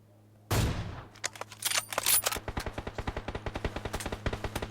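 Gunfire in the mobile battle royale game New State Mobile starts with a loud opening blast, followed by a long run of rapid, evenly spaced automatic shots that carry through to the end.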